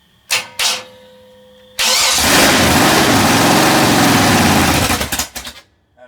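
A freshly built 427 big block V8 cranks twice in short bursts, then catches and roars at a loud, rough idle for about three seconds before sputtering out as the fuel runs dry.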